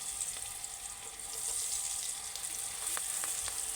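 Sliced okra fries in a pan for a Telangana-style okra fry, giving a steady, even sizzle with a few faint clicks of movement on top, close and continuous.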